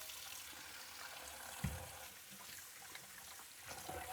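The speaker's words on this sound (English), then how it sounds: "give the hands a quick wash" Water running steadily from a kitchen sink tap while hands are washed during meal prep, soft and continuous with a faint splash and a light knock partway through.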